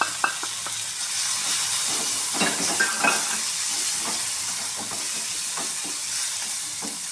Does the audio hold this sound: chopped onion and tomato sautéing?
yes